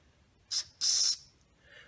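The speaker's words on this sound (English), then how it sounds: "We spray out the jets." Aerosol cleaner sprayed through the jets of a Yamaha XJ650 carburetor, two close hissing bursts, a short puff followed by a longer steady blast, then a faint trailing hiss.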